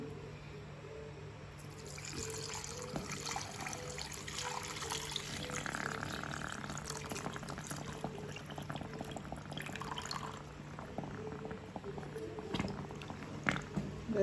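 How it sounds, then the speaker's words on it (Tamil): Milk is poured into mashed yam in a traditional kitchen, giving a steady soft liquid trickle and wet mixing sounds that run for several seconds with faint background noise and no talking. "இப்போ நாங்கள் பாலை விட்டு கொள்ள போகிறோம்."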